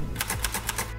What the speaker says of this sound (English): uses her vast collection of typewriters to press symbols to paper